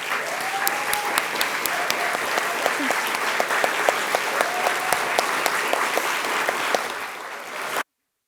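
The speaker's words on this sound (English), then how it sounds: "could we give them a round of applause?" An audience at a book awards ceremony in a library claps in a sustained, dense round of applause that carries on for several seconds before cutting off abruptly.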